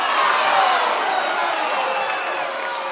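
Home crowd at a high school sectional baseball game reacting to a diving stop and force out at second base, a sustained roar of many voices at moderate distance, steady with no single voice standing out.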